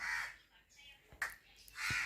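A crow caws a few times nearby, harsh, separate calls with short pauses between them.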